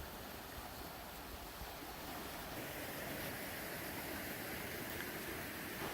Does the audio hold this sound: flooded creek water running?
yes